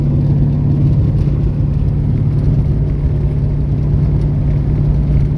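A Camaro with a built LT1 383 V8 cruising on the road, heard as a loud, steady low engine drone and road rumble from inside the car, unbroken throughout with no voices.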